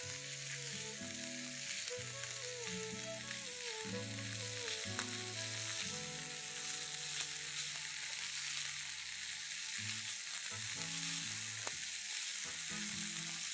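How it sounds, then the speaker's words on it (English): Sliced chicken sausages sauté in a pan with a flavorful mixture for chicken mac and cheese, giving a soft steady sizzle under quiet background music. "some chicken sausages that I've just sliced up. You want to saute this with this lovely mixture that's already in the pan"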